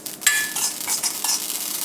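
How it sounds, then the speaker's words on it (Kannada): Poppy seeds roasting in a dry pan, crackling and popping with a steady, close sizzle and a few scraping stirs over a brief stretch, with no voices. "ಗಸಗಸೆ ಹಾಕಿ ನೋಡಿ, ಇದು ಚಟಪಟ ಅಂತ ಇದೆ"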